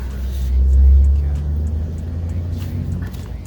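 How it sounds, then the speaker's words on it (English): A loud truck passes outside, a deep low rumble that swells to a peak then slowly fades, heard through walls beneath someone talking. "I'm sorry if you can hear the loud truck outside"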